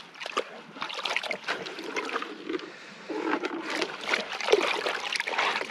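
Material dumped into an orange bucket full of water beside a homemade highbanker, irregular splashing and sloshing with trickles, close and fairly loud, continuing in bursts throughout without talk.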